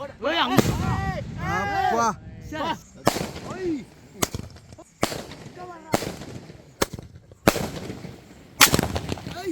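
Sivakasi firecrackers burst for Diwali in a series of sharp, loud bangs spaced irregularly a second or so apart, with excited voices shouting between the early blasts.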